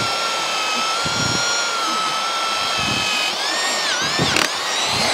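A power drill bores through wood during garden room base construction, a steady whining tone with harmonic bands running throughout and a pitch dip near the end as the bit loads up.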